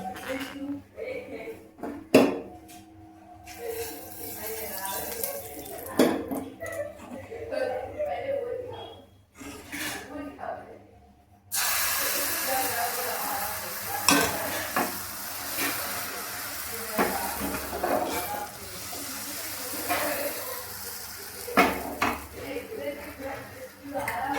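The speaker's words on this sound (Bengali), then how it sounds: "পাটি সাপটা ভেজে নেবো" Patishapta batter frying in a frying pan: a steady hiss and sizzle fills the pan as it cooks, with scattered clinks and scrapes of a utensil against the pan, while someone talks over it.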